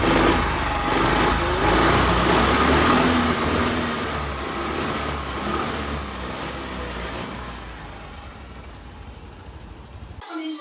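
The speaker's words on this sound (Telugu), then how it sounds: "ఇక ఇంజన్ పరంగా చూస్తే మీరు సెల్ఫ్ రన్నింగ్లో పెట్టి చూస్తాను" A 2017 TVS Pep scooty engine runs steadily after self start, a close, continuous light buzzing hum that slowly fades in loudness before cutting off near the end.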